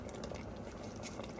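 Abritada simmering in a cooking pot, a steady bubbling boil with soft pops and crackles, close and continuous at low volume.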